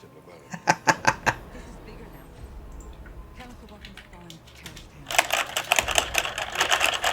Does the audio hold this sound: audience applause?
no